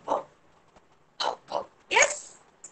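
Young children in an online kindergarten class imitate a dog barking with their voices, several short bark-like calls in separate bursts, close to the microphone and fairly loud.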